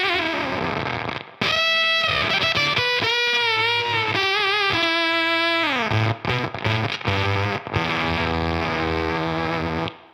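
Heavily fuzzed electric guitar through a Beetronics Octahive V2 octave fuzz pedal, playing a sustained single-note riff with bending, buzzy harmonics, loud and up close, with no talking.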